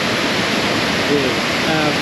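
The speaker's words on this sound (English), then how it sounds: "the immense power of the water that's tumbling over these ledges" Iguazu Falls thunders with an unbroken, dense roar of water tumbling over rock ledges, loud and constant throughout with no pauses.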